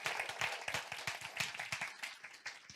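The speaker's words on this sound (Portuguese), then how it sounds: "pedir uma salva de palmas a ela pela dedicação" Audience applause in a ministry event hall, a faint, fairly sparse patter of clapping from a modest crowd with no speech.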